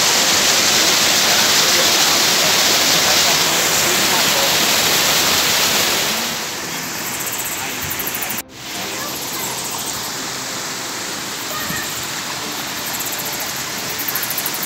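Loud, steady roar of a waterfall at a site in Paraíba, Brazil, pouring water close by and filling the whole scene, briefly dipping before continuing slightly softer.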